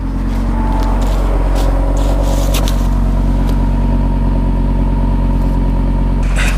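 A 2022 Audi RS3 engine idles steadily while warming up in RS dynamic mode, a loud, continuous close-up drone with no revs.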